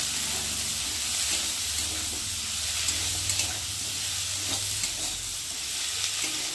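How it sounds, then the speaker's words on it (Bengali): Cut potato and eggplant frying in a pan with onion and garlic, a constant close sizzle with scraping stirs and small clatters throughout, no talk. "আর এখন কেটে রাখা আলু আর বেগুনটা দিয়ে ভালো করে একটু ভেজে নেব।"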